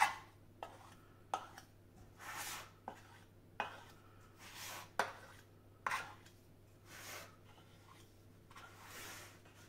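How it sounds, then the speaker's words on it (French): A small knife trims excess dough from the rim of a rhubarb tart, giving a series of sharp, close taps and scrapes at irregular intervals, with soft scraping in between and no talking. "Un petit couteau. Et on coupe le surplus."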